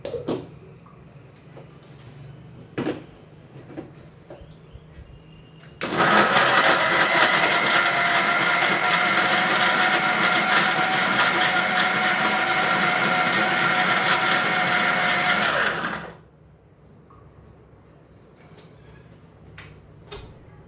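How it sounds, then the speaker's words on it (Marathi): A kitchen mixer grinder blends a milkshake with cold milk, starting abruptly into a loud, steady whirring roar that holds for about ten seconds before cutting off, with quiet room noise before and after. "थंड दूध टाकून आपलं मी पुन्हा एकदा मिक्सरला काढायचं"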